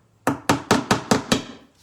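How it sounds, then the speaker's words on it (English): A hammer strikes a nail into a wooden dresser six times in a quick, even rhythm, each blow a sharp close knock with a short ring. "So I'm going to nail it in"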